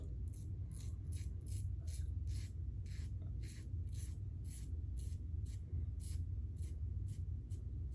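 An Edwin Jagger 3one6 razor scrapes through a day and a half of stubble in steady, rhythmic rasping strokes, close and clear, each pass a short gritty scratch over a constant low hum.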